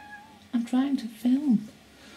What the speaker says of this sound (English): Oh, you're going to meow over my...